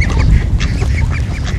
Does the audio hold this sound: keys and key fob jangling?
no